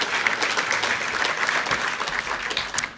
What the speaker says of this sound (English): Yes, a round of applause for Jessica.